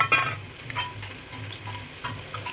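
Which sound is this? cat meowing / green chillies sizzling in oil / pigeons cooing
green chillies sizzling in oil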